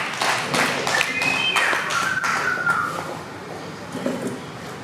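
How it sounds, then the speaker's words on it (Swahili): Church event audience applauding a guest donor, a short burst of close, fairly loud clapping that tapers off within a few seconds, with faint voices in the background. "Makofi kwake."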